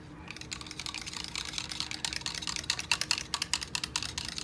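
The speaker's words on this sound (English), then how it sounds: "And I'm gonna whisk, whisk," A whisk beats soap ingredients, including milk, in a bowl while making a Mexican hot chocolate cold process soap, a fast, steady run of light tapping and clicking strokes that grows sharper toward the end.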